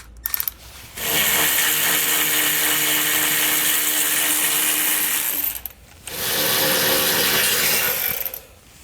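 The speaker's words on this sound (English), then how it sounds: "We're going to remove both those bolts so we can remove the Jount spring" An impact or air wrench with a 16mm socket spinning bolts off a 2019 Ram to remove the jounce spring, two long steady whirring runs with a short pause between, loud and close.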